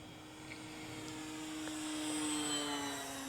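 A P-51D Mustang model airplane flies, its steady propeller whine drifting slightly in pitch as the drone holds on without any voices.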